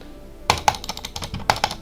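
Loud computer keyboard typing close to the mic, a quick run of sharp clacking keystrokes in uneven bursts with a couple of heavier key hits.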